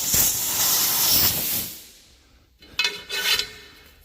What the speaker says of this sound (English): I've been trying to blow the dirt out from in here. Got my air gun.